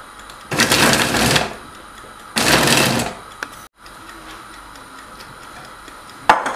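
A metal blade chops pieces of parotta on a hot griddle while chicken kothu parotta is made. The rapid, clattering strikes come in two loud bursts of about a second each, followed by quieter scraping and a final sharp clank.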